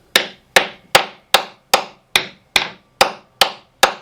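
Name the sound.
hitting boat hull near garboard drain, sounding hollow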